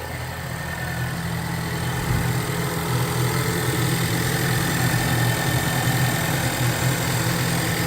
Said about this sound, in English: they're noisy, these little direct inject engines.